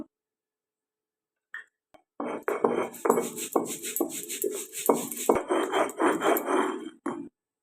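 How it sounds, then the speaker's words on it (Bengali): Poppy seeds being ground into a paste by hand for a vegetarian paneer dish: after a few faint knocks, a run of rhythmic, gritty rubbing strokes of grinding stone against stone continues for about five seconds before stopping. "এবার চলে এলাম পোস্ততে, পোস্তটা বেটে নেব"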